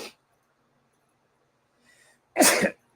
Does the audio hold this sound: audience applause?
no